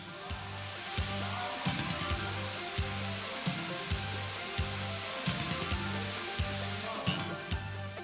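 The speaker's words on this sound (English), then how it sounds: "The fire is extinguished in a matter of seconds, and the agent builds up a foam blanket that secures the liquid surface to prevent reignition." A restaurant kitchen fire being put out by a foam suppression agent makes a steady, loud hissing spray with a low rhythmic pulsing throughout, no voices.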